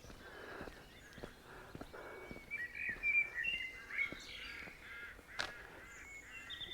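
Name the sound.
birds chirping along a roadway in Ardee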